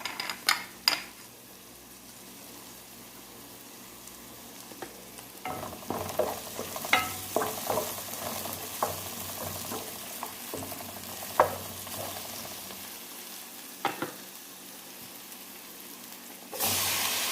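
Garlic and onion fry in a pan, a soft steady sizzle punctuated by intermittent scrapes and clicks of stirring, ending with a louder burst of hiss.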